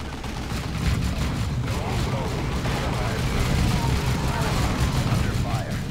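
Sustained gunfire and explosions from the Warhammer 40,000 strategy game Dawn of War II, fighting in the Argus Outskirts: dense, continuous battle noise with overlapping shots and rumbling booms throughout, steady and loud.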